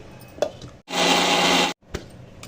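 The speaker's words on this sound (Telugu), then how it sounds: "మిక్సీలో టమాటా పేస్ట్ చేసేసుకొని రెడీగా పెట్టుకోవాలి." A kitchen mixer grinder whirs loudly for about a second while grinding tomatoes and dried red chillies into paste, framed by quieter clicks and handling sounds before and after.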